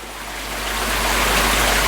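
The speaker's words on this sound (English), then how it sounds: "I'm now going to put it into the measuring bowl." A koi is tipped from a pan net into a half-submerged measuring bowl, and a broad rush of sloshing water builds steadily louder up close.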